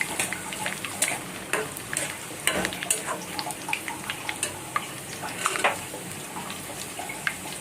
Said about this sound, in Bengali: যে ভেজে নিচ্ছি